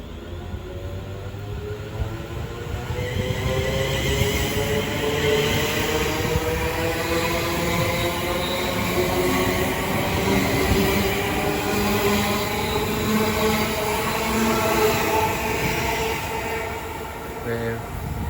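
The 1735 passenger train to Northampton from London Euston rumbles steadily through Watford Junction station on the West Coast Main Line, a continuous loud rolling roar of wheels and carriages lasting throughout, with someone talking faintly over it.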